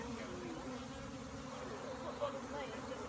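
Honey bees buzz steadily around an open hive during queen rearing in New Zealand, a dense continuous drone close by with no talking.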